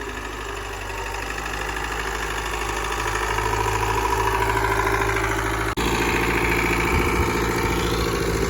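A log loader's engine runs while loading a trailer after a hurricane, a loud steady diesel idle with knocking vibration throughout and a brief clunk partway through.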